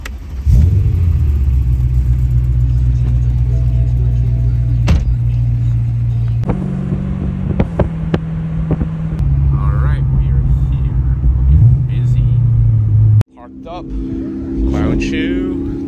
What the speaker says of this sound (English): Engine start, and here to start up.